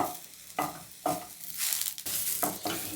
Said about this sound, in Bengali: টমেটোগুলোকে একটু হালকা গুঁড়িয়ে তার সঙ্গে রসুনগুলোকেও একটুখানি ফ্রাই মতো করে